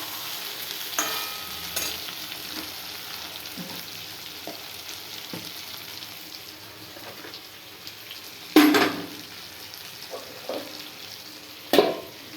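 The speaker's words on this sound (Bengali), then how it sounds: "এবারে এই যে নেড়ে নিচ্ছি।" A dish frying in a pan is stirred, giving a soft, continuous sizzle with scattered scraping strokes and two sharper clanks of the utensil against the pan.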